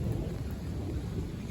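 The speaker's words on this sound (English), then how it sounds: "A little bit of thunder right there." Low rumbling thunder rolls through during a night of intense lightning, a continuous distant grumble with faint rain-like hiss, no voices.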